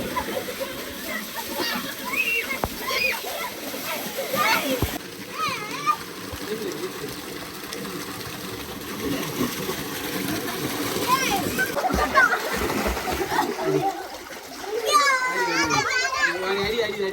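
Children shout and play while splashing in water outdoors on a farm, with lively overlapping kid voices, intermittent splashes and flowing water close by, continuing throughout.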